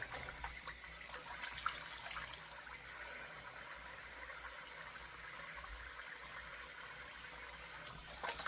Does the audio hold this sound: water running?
yes